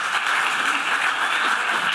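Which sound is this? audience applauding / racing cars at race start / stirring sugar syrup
audience applauding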